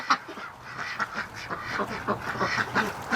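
Female duck in a pen giving a mating call, a close run of repeated raspy quacks in a quick, uneven rhythm.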